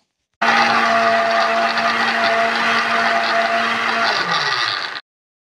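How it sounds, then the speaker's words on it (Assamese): An electric mixer grinder blends a spice paste in its jar with a steady, loud, high-pitched whir that lasts several seconds, then slows as it winds down and stops abruptly. "এতিয়া মিক্সাৰ জাৰত সকলোখিনি দি ল'লোঁ এতিয়া মই খুব ধুনীয়াকৈ এইখিনি পেষ্ট এটা বনাই লওঁ"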